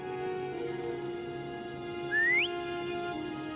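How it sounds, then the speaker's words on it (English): A short rising whistle from the player character calling Foam in Wuthering Waves, a single clear upward sweep over steady background music. "Try whistling."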